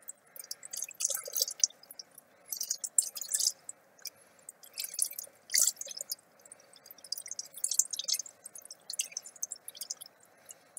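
Water is poured into a pot of stuffed vine leaves, giving soft irregular splashes, drips and squelches that come and go, close up and moderately loud, with no talking.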